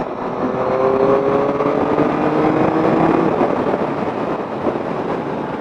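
A Yamaha MT-09 motorcycle accelerates on the road, its engine rising in pitch over a steady rush of wind noise, loud and close for several seconds with no talk.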